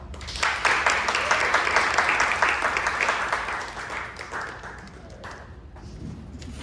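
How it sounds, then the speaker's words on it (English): Audience applause for a Hollings Scholar presenter at a lecture, a dense wash of clapping that swells quickly, holds steady, then thins and fades toward the end. "So let's give Charlie a hand of applause"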